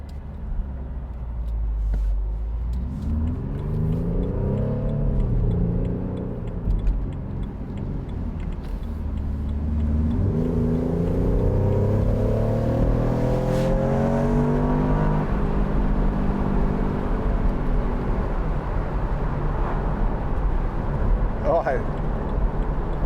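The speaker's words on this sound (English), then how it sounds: "I might put it in neutral here and give it a few revs." A 2014 BMW Z4 sDrive28i M Sport with a 2.0-litre engine revving in neutral, its pitch rising and falling in several swelling sweeps, close and loud over steady cabin rumble, with the driver talking at times.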